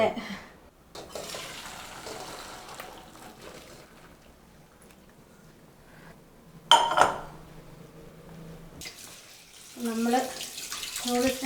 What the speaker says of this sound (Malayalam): നല്ലോണം കഴുകി കഴുകി കഴുകി നമുക്ക് ചൂട് മൊത്തം കളയണം